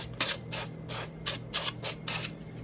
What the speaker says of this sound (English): I'm gonna spray the air fryer with some avocado spray